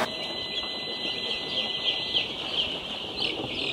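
Chickens cluck and chirp softly in a steady barnyard background during vaccination, with a continuous high-pitched hum running throughout.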